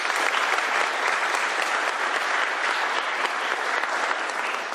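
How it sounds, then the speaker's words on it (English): Audience applause at a governor's bill signing: a steady, dense wash of clapping from a crowd, loud and unbroken from start to finish. "Give her a round of applause for her hard work."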